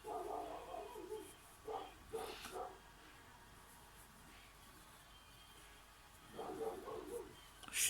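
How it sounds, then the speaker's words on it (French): A dog barks intermittently in short bursts in the background, fairly faint and distant, with quiet gaps between volleys. "Je suis désolée pour le chien qui aboie."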